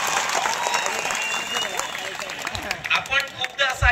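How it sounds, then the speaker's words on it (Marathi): Audience at a college event applauding loudly for the college president, a dense burst of clapping that thins toward the end as voices start to come through. "त्यांच्यासाठी एकदा जोरदार टाळ्या वाजवा."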